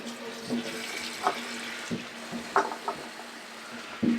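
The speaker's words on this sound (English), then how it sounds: "I'll put them into the sink here in cold water" A cold tap runs steadily into a kitchen sink to rinse mushrooms, a constant watery hiss with small splashes and clinks scattered throughout.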